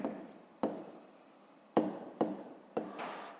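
A pen writing on paper while working a fifth-grade maths division exercise: five sharp stroke onsets, each trailing into a soft scratchy drag, close and fairly quiet with no talk.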